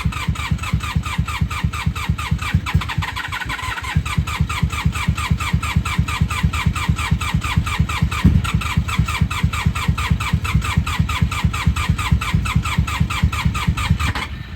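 A 1994–2003 Honda Magna 750 VF750C motorcycle engine cranks with a fast, even rhythmic churning that runs for about fourteen seconds, briefly stumbling and catching near the start without fully firing up.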